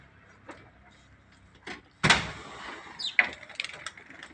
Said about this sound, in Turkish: Gel, kapıyı açıyorum.